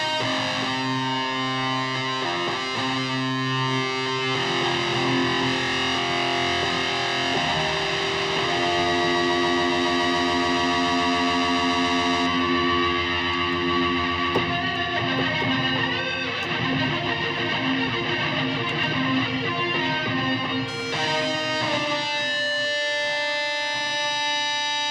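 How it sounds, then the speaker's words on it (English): A Roland V-Combo VR-09 keyboard plays a distorted synth guitar tone through its onboard multi-effects, a loud, sustained, buzzing lead line that continues steadily without a break. "So you can get some nice guitar sounds on board as well, just using the onboard effects, which is the distortion on the multi-effects on this one"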